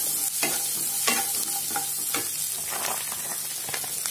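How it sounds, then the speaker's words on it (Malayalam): Garlic cloves and a small piece of ginger sauté with onion in an oil-filled pan, giving a steady loud sizzle broken by several scraping stirs, with no voices. "ഇനി ഇതിലേക്ക് ഒരു 4 അല്ലി വെളുത്തുള്ളിയും ഒരു ചെറിയ കഷ്ണം ഇഞ്ചിയും ചേർത്ത് കൊടുത്തിട്ട് നന്നായിട്ടൊന്ന് വഴറ്റുക."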